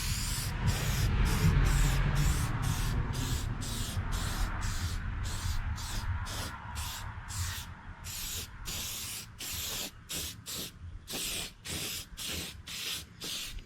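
Ultimate Black Plastic Restorer is sprayed in a Cummins diesel engine bay, first as a continuous hiss and then as a quick series of short regular bursts, close and clear with no talking.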